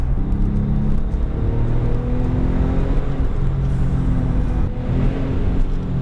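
Porsche 997 Turbo with a manual gearbox, aftermarket exhaust and Sport mode engaged, giving a loud, continuous deep engine rumble close by with slight swells in throttle throughout.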